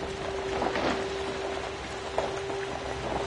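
Steady rain hiss in the PS4 video game Outlast fills the scene with faint soft patters and a constant thin tone running underneath, moderately loud and continuous throughout.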